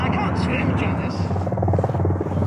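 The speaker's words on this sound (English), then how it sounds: "Helicopter." A mountain rescue helicopter flies low over a solo camp at a large UK landslide, its steady thudding rotor drone loud and close the whole time, with a voice talking over it.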